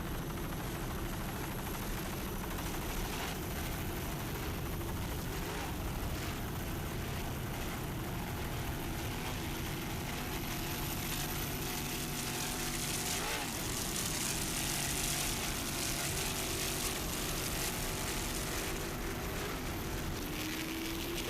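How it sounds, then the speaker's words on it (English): A 650-horsepower Frank's Marine inboard racing boat engine drones steadily as the boat runs over bumpy water in Sarasota during an offshore grand prix, a loud continuous roar that holds for the whole stretch. "Boat is powered by one 650 horsepower Frank's Marine inboard, doing its job here in these bumpy waters in Sarasota."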